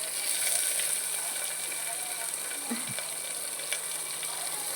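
Onion, garlic and curry leaves sizzle steadily in a pan, a continuous bright hiss with a soft stirring scrape partway through, moderately close and unbroken by talk.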